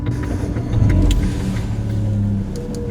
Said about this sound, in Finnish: Se oli sitten luultavasti viimeinen käynnistys tälle autolle.